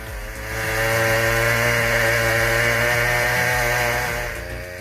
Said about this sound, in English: The Steel MS-881, with its massive 67-inch bar, cuts through that huge log like it's nothing.